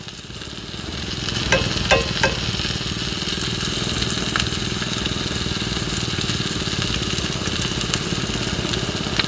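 French toast sizzling steadily in a skillet, a loud continuous fry with a few brief clinks and scrapes early on as it is turned, and no talk.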